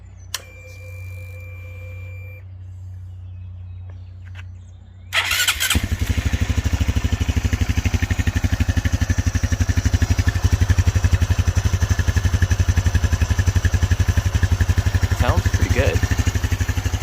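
Rebuilt Honda Trail 125 CT125 motorcycle with a new 164cc piston and cylinder, starter whirring briefly before the single-cylinder engine catches and settles into a loud, steady, rapid idle close by, with a faint tone and a brief squeal early on.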